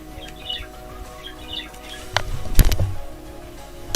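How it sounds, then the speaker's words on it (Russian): Pet parrot chirping indoors, a few short, sharp calls followed by a louder burst of squawks near the mic, with quiet background noise between. "Всегда слышно попугая."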